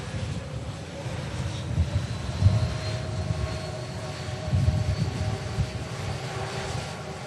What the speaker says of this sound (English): Turkish Neo vacates, making a lovely din as it does so.